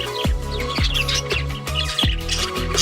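Caged lovebirds chirp close by in quick, repeated sharp calls, a lively overlapping run of tweets with no talking.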